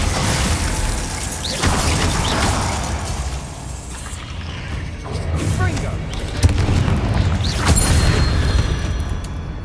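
A Bombarda explosion spell in the video game Hogwarts Legacy, heavy booming blasts and crashing debris over a dense layer of game noise, with a voice calling out spells.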